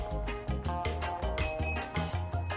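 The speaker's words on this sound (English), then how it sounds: "Hit the bell." A small bell is struck again and again, giving a steady run of bright, ringing dings that sound close by and stand alone without any voices.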